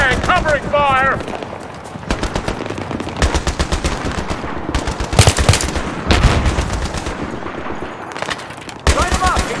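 Sustained automatic gunfire in the Battlefield video game, loud bursts of machine-gun fire and shots recurring across the clip amid battle noise, with voices shouting under and between the bursts.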